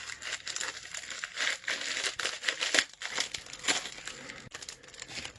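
Plastic packaging around a Pokéball keychain being cut and pulled open, a continuous close crinkling and crackling with scattered sharper snaps.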